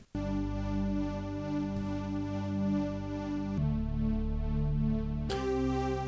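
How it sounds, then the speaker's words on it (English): An 1980s-style synth with padded, textured tone holds sustained chords that shift every couple of seconds, warm and steady with a slight throbbing, playing alone without any voice. "First of all, we got this kind of 80s synth."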